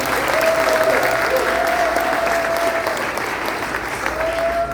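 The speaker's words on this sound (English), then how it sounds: "let's give a big round of applause to all the media" Crowd at a political campaign launch applauds the media, a full, steady round of clapping from many hands with a thin sustained tone running faintly underneath.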